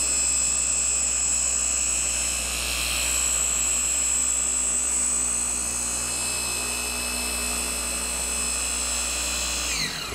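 A RUPES machine polisher works a test spot on car paint with a high, steady whine and a low motor hum. It runs continuously and close for about ten seconds, then spins down at the end.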